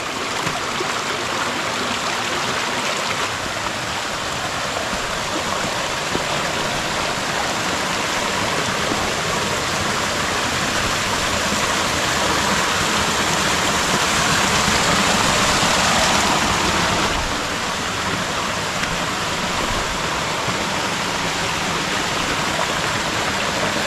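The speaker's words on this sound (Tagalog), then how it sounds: "malakas yung tubig namin dito, yung aming sapa, dahil palaging umulan." A strong creek swollen by frequent rain rushes steadily, a dense, continuous wash of flowing water that stays loud and even throughout with no voices.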